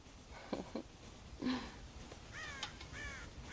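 Crows caw in Red Dead Redemption: several harsh caws, a couple of them drawn out, sound at a moderate distance over a low, noisy outdoor ambience.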